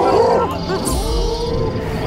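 A saber-toothed tiger roaring in the prehistoric video game Ancestors, a loud, close, deep growling roar that carries through the whole moment with rumbling undertones.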